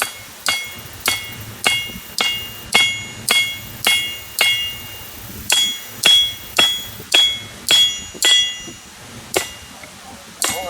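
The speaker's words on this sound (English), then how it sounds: "All I'm doing today is flattening this piece out" A hammer flattens a red-hot steel bar at an outdoor home-built forge, striking in a steady run of about twenty sharp metallic blows with short ringing decay, close and loud with no talk.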